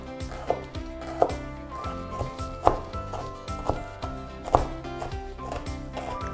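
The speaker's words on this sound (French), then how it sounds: "on va couper les citronnelles et les échalotes en tout petits morceaux" A knife chops lemongrass and shallots into small pieces on a cutting board, with crisp, regular strokes about once a second over soft background music.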